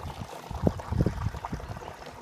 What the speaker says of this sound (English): You can hear the water pouring in there.